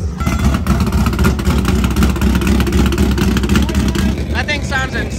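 A 2nd Gen Cummins dually mega truck engine revs loud and steady, a thick, continuous diesel roar that fills the whole stretch, with a brief voice rising over it near the end.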